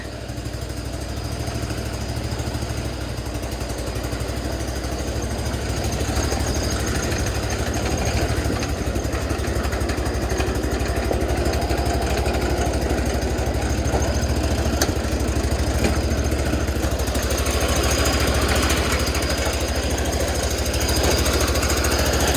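A John Deere 212 lawn tractor's engine runs continuously nearby with a loud, rough, shaking chug, steady throughout and with no speech over it.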